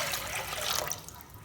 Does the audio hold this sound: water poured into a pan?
yes